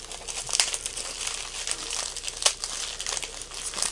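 Cardboard and plastic packaging of a Funko mystery box crinkling and tearing as it is opened, with sharp crackling bursts over a steady close rustle.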